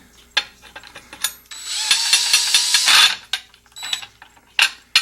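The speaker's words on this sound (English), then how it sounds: "when I'm tightening it up, I want the slip clutch to engage" A power drill drives screws on a large segmented wooden bowl, its slip clutch ratcheting in a loud, steady burst mid-clip with shorter clicks and whirs before and after.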